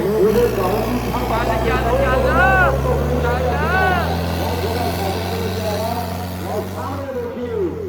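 A heavy tractor engine chugs steadily at a low pitch nearby at a tractor-trolley pulling contest, running continuously while people talk over it.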